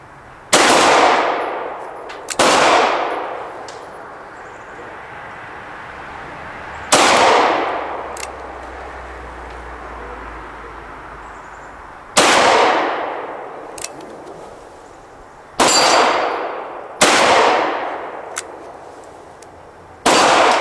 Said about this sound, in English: we're going to shoot all of these in single action.